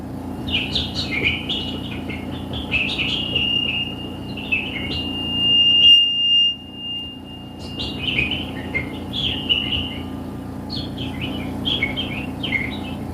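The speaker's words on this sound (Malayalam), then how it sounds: "ജനലൊന്ന് തുറന്നു നോക്കുമ്പോൾ കിളികളുടെ കളകളാരവം" Morning birdsong heard from an open window, several birds chirping and trilling near and clear, with one long steady whistle in the middle and quieter gaps between bursts.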